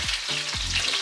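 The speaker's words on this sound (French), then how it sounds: "vous allez laisser dorer votre petit gigot d'agneau" A leg of lamb browns in hot oil in a pan, a loud, close, continuous sizzle and crackle filling the whole second with no talk.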